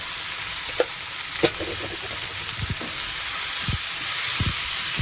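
Masala of ground coriander, ground cumin and salt frying in a pan, a steady soft sizzle with scattered spoon scrapes and clicks, plus a few sharper knocks toward the end.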